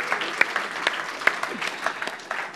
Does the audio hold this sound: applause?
yes